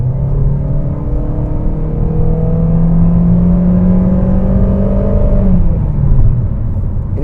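A 2019 Honda HR-V with a CVT accelerates in S mode, the engine holding a steady rising drone that climbs smoothly for several seconds before easing off, loud and close from inside the cabin.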